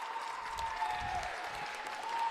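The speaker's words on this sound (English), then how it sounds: "He's up and he gets a round of applause." Crowd at a high school basketball game applauding a player, a brief, moderately distant patter of clapping in a gym under faint background noise.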